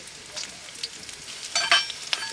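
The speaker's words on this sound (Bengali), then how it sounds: "দুইটা তেজপাতা সাদা এলাচ কালো এলাচ এবং দারচিনি দিয়ে দিচ্ছি" Bay leaves, green and black cardamom and cinnamon hit hot oil for a meat and potato curry, producing a soft, fairly faint sizzle with brief crackling bursts near the end.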